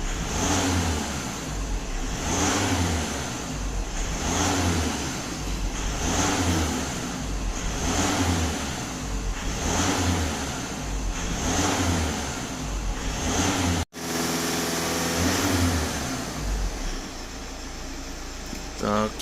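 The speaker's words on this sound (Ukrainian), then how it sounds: "Автомобіль сам вибирає собі оберти потрібні." A Volkswagen diesel engine, running rich, idles and revs by itself in a slow repeating cycle of rising and falling engine speed, close and steady, with a brief cutout before a steadier hum resumes.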